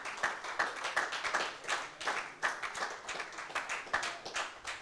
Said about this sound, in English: You ought to clap your hands right now for your pastor.